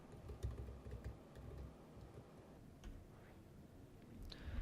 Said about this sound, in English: So it's just going to have me type in my email address.